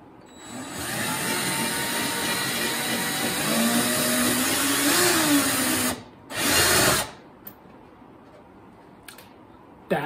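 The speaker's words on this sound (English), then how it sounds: "Now we're gonna drill our hole through the icebox, through the floor." A power drill whines steadily for several seconds, its pitch shifting slightly as it bites through the wooden floor of a vintage trailer, then stops, spins up briefly again, and falls quiet.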